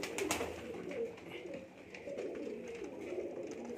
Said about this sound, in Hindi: मोतियां वाला कबूतर है जनाब।